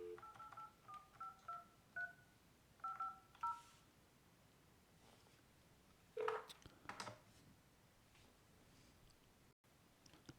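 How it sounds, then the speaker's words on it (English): An Avaya J Series desk phone dialing an outbound number, a quick series of about a dozen DTMF keypad tones in an uneven rhythm, followed by a couple of louder handset or button clicks, quiet and close. "to call outbound, press 9, and then whatever the number would be"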